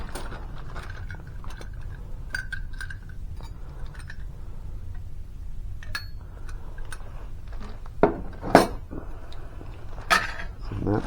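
Sterling silver spoons and napkin rings clink and tap against each other as they are sorted by hand, scattered light metallic chinks near and fairly quiet, growing sharper toward the end, with a voice talking in places.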